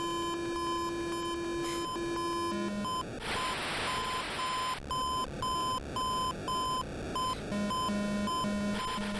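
Repeated electronic beeping from a low-altitude warning in the flight video game Top Gun: Guts and Glory pulses in a steady rhythm, interrupted midway by a brief burst of hiss, then the beeps resume alongside lower tones.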